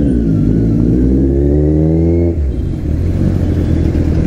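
A Kawasaki Z900 motorcycle with an aftermarket Austin Racing exhaust revs hard and loud up close, its engine pitch climbing before dropping back into a rough, burbling idle.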